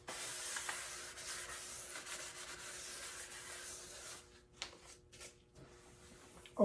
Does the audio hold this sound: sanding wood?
yes